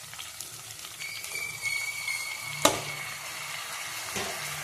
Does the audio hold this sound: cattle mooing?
no